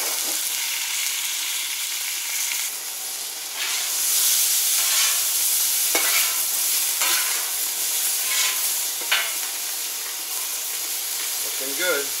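Brats, potatoes, onions and peppers cook on a Camp Chef FTG600 flat top grill, giving a steady close sizzle and hiss with occasional spatula scrapes and clicks as the food is turned.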